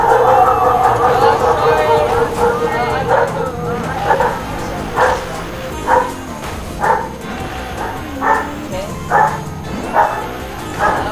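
A dog barks repeatedly in short, evenly spaced yips over game sounds and background talk, fairly close and loud throughout.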